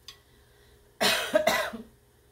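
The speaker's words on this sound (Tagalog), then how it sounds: "Ubo." A single cough, close and fairly loud, breaking briefly into two bursts, in a quiet home kitchen; no talk.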